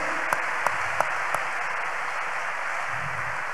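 A congregation claps together in a church service, a steady dense wash of applause holding from start to finish, with a few sharper individual claps standing out near the beginning.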